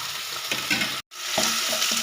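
Finely chopped tomatoes drop into golden-brown onions frying in a pan for pulao, giving a loud, steady sizzle with a few stirring scrapes. A brief silent gap breaks it midway.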